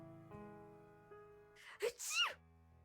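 A single sharp sneeze with a quick inhaled build-up, close and loud, over a soft sustained musical background.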